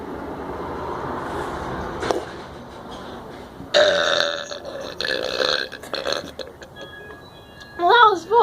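A girl burps repeatedly after drinking Pepsi, a series of loud eructations over broadband noise with a sharp pop near the start, a burst in the middle and rising voiced burps toward the end.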